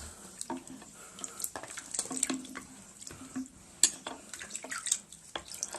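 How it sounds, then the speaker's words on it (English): Water running and splashing while hair is rinsed, with an uneven close patter of drips and spatters rising and falling, with no talking. "So now I'm going to rinse my hair"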